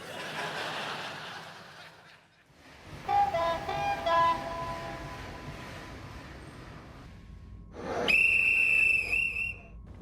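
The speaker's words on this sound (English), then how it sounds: "The sharp whistle of the platform guard awoke me from my reverie at Birmingham New Street Station." A platform guard's sharp whistle at Birmingham New Street Station shrills loud and sustained near the end, after a stretch of station bustle and brief chuckling.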